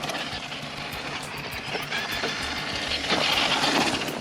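A GMade BOM GS02F RC crawler on a 4S battery with a 40-turn motor and 13-tooth pinion drives slowly in first gear, giving a steady, faint mechanical whir with a thin electric hum that holds throughout.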